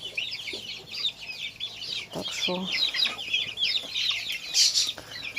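Elite American and Brahma breed chickens cluck and chatter continuously close by in a rural farmyard, while a person speaks briefly over the flock.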